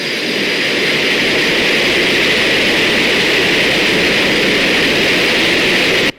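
Concorde jet engines roar at takeoff power in a flight simulator game, a loud, steady, broadband blast with a high whine that holds constant before cutting off abruptly at the end.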